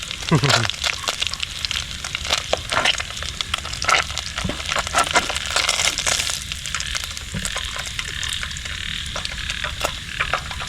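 Food frying in oil after being sliced, a steady crackling sizzle with scattered pops running throughout, fairly close and moderately loud with no talking over it.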